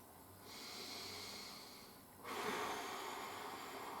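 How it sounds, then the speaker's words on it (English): Slow, deep breaths during an abdominal therapy exercise, a long airy breath through the nose then a stronger, louder exhale, close and quiet with no talking. "And try to pull in even deeper each subsequent breath"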